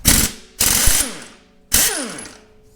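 An air impact wrench hammers off the crankshaft damper bolt on an engine being torn down: three loud, rattling bursts, the first two close together and the third after a pause, each trailing off into a falling mechanical whine.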